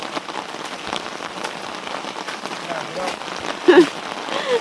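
Steady heavy rain drums on surfaces close by during a long downpour at a rural spot where frog traps are set, a dense continuous patter with a brief louder burst near the end.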